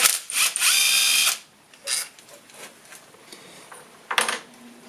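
An electric spanner driving bolts on coilovers during work on a 1971 Gilbern restomod, a close whirring burst of just over a second followed by a few short, fainter spins and taps.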